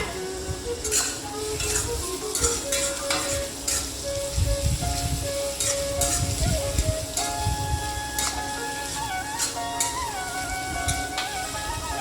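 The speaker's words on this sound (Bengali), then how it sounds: "খুব সুন্দরভাবে আমার মশলাটা ভাজা হয়ে গেছে" Onions with ginger-garlic paste fry and get stirred in a pan, giving a steady close sizzle with irregular scraping strokes of the spoon throughout, and no talk over it.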